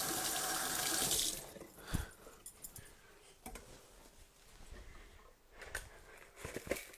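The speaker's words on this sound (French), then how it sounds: "Ensuite, je vais me rincer un peu les doigts." Fingers are rinsed under a running kitchen tap while making cucumber kimchi, a steady close splash of water for about a second, followed by quieter clicks and light handling noises.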